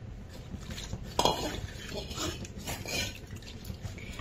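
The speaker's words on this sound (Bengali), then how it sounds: "এটাকে আমি কন্টিনিউয়াস নাড়ছি" Flour being stirred continuously in a pan for a vegetarian dinner, giving soft scraping and clinks of a utensil against the pan, with a brighter knock near the start and steady low kitchen noise underneath.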